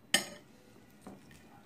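Chopsticks toss a moringa leaf salad in a bowl, giving one sharp clink of wood against dish, then a softer scrape about a second later, close and quiet.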